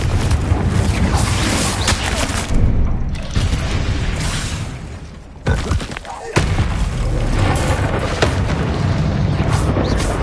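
Repeated booming blasts from the Confringo spell in Hogwarts Legacy, loud and close, thumping through a busy fight mix with a brief lull near the middle.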